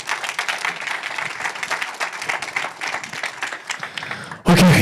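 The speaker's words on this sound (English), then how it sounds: "So if we could give them a round of applause." An audience applauds guests at a talk about food, employment and urban activism. The clapping is dense and steady for about four and a half seconds, then cuts off abruptly.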